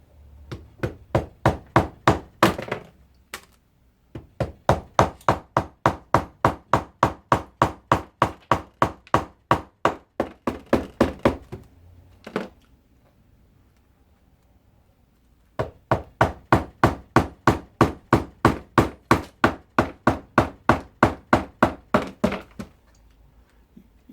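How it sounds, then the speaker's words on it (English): A mallet strikes a chisel into a cake of beeswax in fast, steady runs of sharp knocks, three long bursts close to the mic separated by short pauses. "today I'm going to be using a mallet and a chisel to do it"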